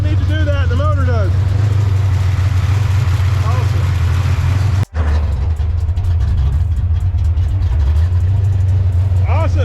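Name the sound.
Windsor 408 stroker V8 engine running in Fox Body Mustang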